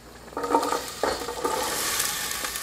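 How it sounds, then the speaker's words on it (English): A big Spanish onion sizzling in a pan as it sweats, with bursts of frying hiss and a few stirring scrapes, close and moderately loud with no talking. "Let's see if we got a little sizzle going on."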